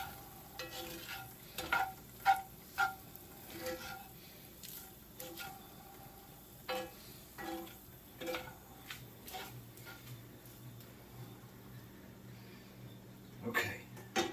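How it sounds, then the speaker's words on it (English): Spoon stirring skillet ravioli lasagna with garlic in a pan, heard as faint scattered scrapes and clicks over a low background hiss, with no talking. "we're going to give this a good stir"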